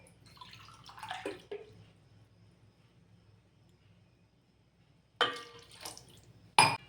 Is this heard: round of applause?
no